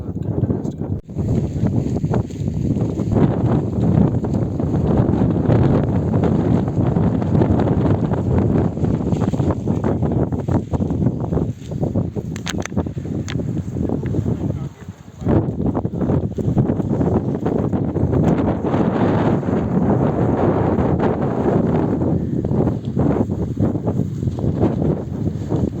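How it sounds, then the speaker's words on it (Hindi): Strong wind blows through the Siran valley, a green mountain valley in Pakistan. It produces a continuous loud, blustery roar and buffets the microphone for the whole stretch, briefly easing midway. "मज़े की हवा चल रही है।"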